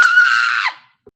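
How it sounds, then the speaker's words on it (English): Edith lets out a shrill, piercing scream in the video game The Waif. It is loud and close, lasts under a second, and fades quickly, with a faint tap just after. "Another scream rings out from Edith."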